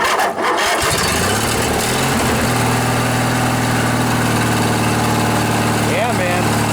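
A vintage Craftsman riding mower with a Briggs & Stratton 20 HP twin engine starts with a brief crank, then settles into a loud, steady idle close by.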